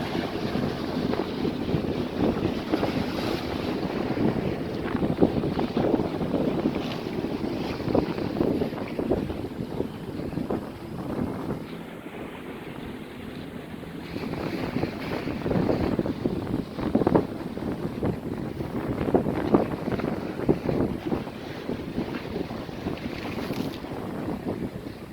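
Lake water washing and splashing against the shore on a windy day, a continuous rough surge with heavy wind buffeting the microphone throughout, no talking.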